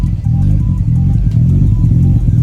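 A cammed Nissan GT-R engine idles nearby, a loud, deep, lumpy rumble with a rhythmic choppy lope pulsing through the short stretch.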